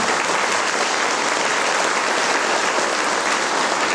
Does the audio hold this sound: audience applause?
yes